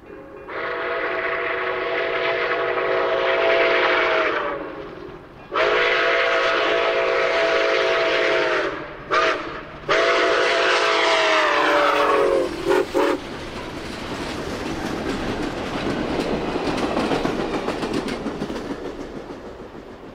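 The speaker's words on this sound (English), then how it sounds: "On the final leg of the test trip, 765 rolls through Edgerton," Nickel Plate 765 steam locomotive rolls through Edgerton, Indiana on a test run, sounding long, loud whistle blasts in several bursts, then passing close with a rumbling roar and clattering cars.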